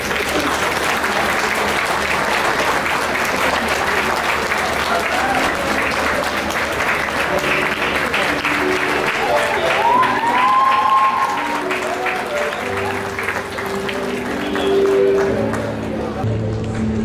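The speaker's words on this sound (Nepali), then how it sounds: "ताली बजाउनुहोस्।" Guests at a Christian wedding in Nepal break into sustained applause, a dense wash of clapping from a crowd that carries on throughout, with voices murmuring faintly beneath it.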